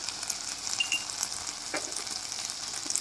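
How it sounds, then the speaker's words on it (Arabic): Okra sautéing in a pan with spices, garlic and onion gives a steady, close sizzle and frying hiss throughout, with a faint stir or scrape partway through and no talking. "بعد ما شوحت الباميه مع التوابل والثومه والبصله"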